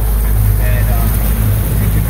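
A boat motor fitted with a Sharrow propeller idles with a steady low rumble, loud and close, mixed with wind noise.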